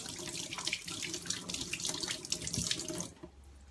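Tap water runs from a faucet while hands are washed, a steady splashing rush at moderate level for about three seconds before it stops abruptly, no speech.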